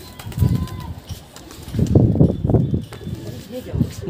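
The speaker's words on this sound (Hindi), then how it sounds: "तो गाइस एक कबूतर गजाली ने उड़ा दिया" Brief bursts of flapping wings as a pigeon takes off, a few soft whooshing flutters close by, with outdoor background noise.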